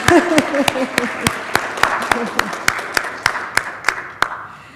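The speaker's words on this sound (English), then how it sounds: "let's just clap for that" Audience clapping at a book event shows as a run of evenly spaced, distinct claps over a quieter crowd bed, with a voice speaking over the start.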